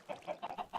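Chickens clucking in the video game Minecraft: a quick run of about five short, evenly spaced clucks, fairly soft and alone with no speech.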